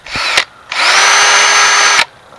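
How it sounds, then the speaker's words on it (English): Cordless power drill boring a tap hole into a maple tree for syrup: a short spin, a pause, then one sustained steady whine for over a second, loud and close with no talk. "to get the drill running in the right direction"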